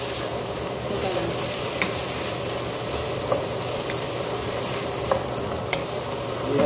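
Bitter gourd with shrimp paste and egg is stirred in a hot pan, giving a steady close sizzle broken by occasional scraping taps of the utensil.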